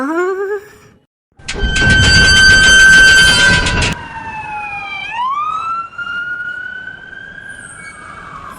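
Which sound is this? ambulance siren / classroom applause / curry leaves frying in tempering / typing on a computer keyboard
ambulance siren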